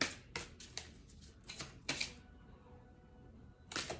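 Tarot cards from an angel deck being shuffled and drawn, a series of short crisp papery riffles and snaps in bursts with pauses between, close and fairly quiet, no talking.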